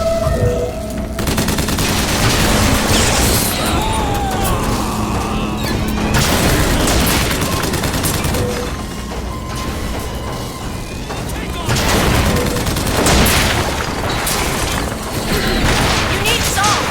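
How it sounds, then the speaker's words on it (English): Rocket explosions in BioShock Infinite pound amid constant loud combat, with heavy booms and gunfire bursting repeatedly, and a voice shouting over the din. "Watch out, rockets!"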